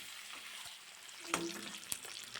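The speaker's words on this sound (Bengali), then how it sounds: "লবণ হলুদ দিয়ে ডিমগুলোকে ভেজে নেব" Eggs frying in hot oil seasoned with salt and turmeric, a faint steady sizzle with a couple of soft clinks from utensils, close by and with no talk.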